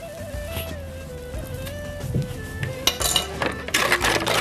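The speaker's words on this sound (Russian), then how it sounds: "все тщательно нужно перемешать." A spoon stirs and clinks against a bowl while yeast, oil, salt and sugar are mixed into warm water for dough, with light scraping taps and a faint tonal hum underneath, growing busier toward the end.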